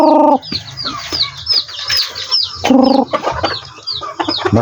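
Farmyard chickens clucking loudly and close, with repeated overlapping clucks and short calls and a rooster-like cry among them.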